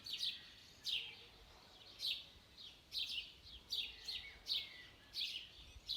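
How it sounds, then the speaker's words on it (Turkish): Repeated bright bird chirps come in short bursts roughly every second, fairly faint over a quiet outdoor background with no talking. "Kuşlar ne güzel sesleri geliyor"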